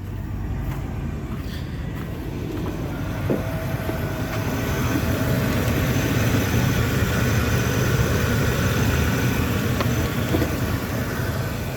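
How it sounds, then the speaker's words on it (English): A Chevy 3500 pickup with an 8.1-litre engine, found in a barn, idles steadily in a continuous low rumble with a slight rise partway through, close and fairly loud, with no talk. "So I need to shut this engine down."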